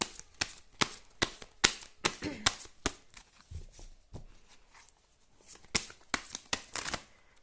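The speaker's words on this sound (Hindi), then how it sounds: "कुछ कार्ड्स और निकालते हैं" Tarot cards shuffled and drawn at close range, a run of crisp, quick riffling slaps and flicks in irregular bursts, fairly quiet with no talk over them.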